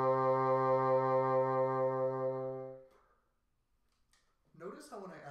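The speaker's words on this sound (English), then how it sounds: "And a note with vibrato sounds like this." A sustained bassoon note played with vibrato, a steady rich reed tone with gentle pulsing wavers, holds for about three seconds, then fades to silence before a voice starts speaking.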